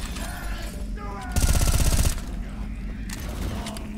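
Weapons fire in the Left 4 Dead 2 No Mercy subway level: a loud, rapid automatic burst of about a second rises over steady game ambience and background noise.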